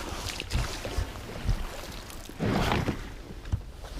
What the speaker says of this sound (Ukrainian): Так, вигрібаємося тут на пляжик.